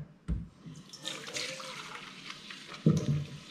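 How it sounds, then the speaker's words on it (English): Tap water runs and splashes while a plastic bucket that held dirty apples is rinsed in a kitchen sink, with bursts of water and clunks of handling near the start and end. "And then I could just wash this bucket."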